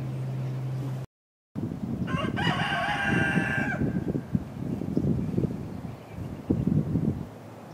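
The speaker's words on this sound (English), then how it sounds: "the chickens have pretty much decided to take free run of the place" A rooster crows once among free-range chickens roaming a cleared yard, a drawn-out harmonic call rising over steady wind noise and scattered clucks and rustling, fairly close.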